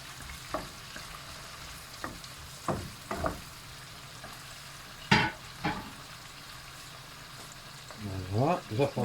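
Onions and zucchini fry in a pan with a steady background sizzle, broken by several sharp stirring scrapes and clatters, and a brief burst of voice-like sound near the end.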